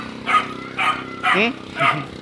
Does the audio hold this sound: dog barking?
yes